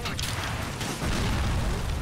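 A boat blows up in the GTA: The Ballad of Gay Tony game, a dense roaring blast that swells and holds as a steady rumble of wash and debris noise across the whole moment.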